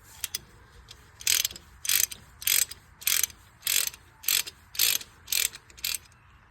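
A ratchet wrench loosens an 11/16 nut on the valve cover bracket of a 2000 Jeep Wrangler TJ 4.0, giving about nine bursts of crisp ratcheting clicks in a steady rhythm, close and clear with no talk.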